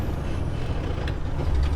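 A tow truck on a road, heard as a loud, steady low rumble of a heavy engine passing close by, with a brief hiss near the middle and no voices.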